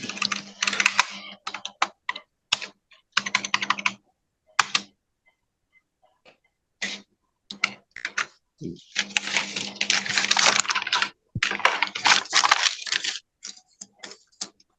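Typing on a computer keyboard while entering data in QuickBooks accounting software, heard as close, quick bursts of key clicks separated by short pauses, loud and alone with no talk.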